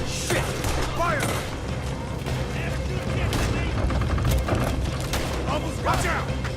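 Gunfire in Red Dead Redemption 2 crackles in dense, continuous volleys during a frontal shootout, loud and busy, with shouting voices mixed in throughout.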